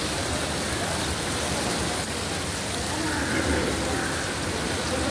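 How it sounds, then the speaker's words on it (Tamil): Heavy storm rain pours down steadily at the Murdeshwar temple in Karnataka, a dense, loud, unbroken hiss of water falling on surfaces nearby. "மழை பெய்து கொண்டிருக்கிறது."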